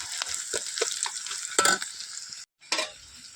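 Potatoes sautéing in a pan with garlic and onion, a steady close sizzle and crackle running throughout, with stirring scrapes and one brief dropout near the end.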